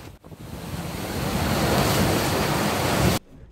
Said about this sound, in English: The roar of the waves and the noise of the slams are something that quickly become normal when offshore.